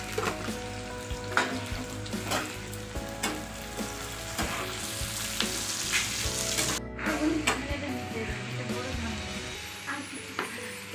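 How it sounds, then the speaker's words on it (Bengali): Onions sizzle loudly in a kadai for chicken biryani, a constant crackling fry punctuated by frequent stirring scrapes and clinks at an irregular pace. "পেঁয়াজগুলোকে অল্প অল্প লাল লাল করে ভেজে নেবো"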